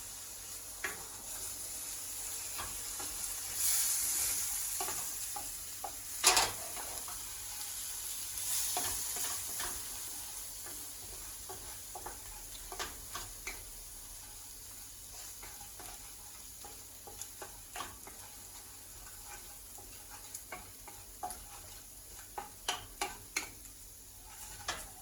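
Butter chicken sauce loosened with a little kettle water sizzles steadily in the pan, with soft stirring and scattered sharp taps of a utensil against the pot throughout, no voices.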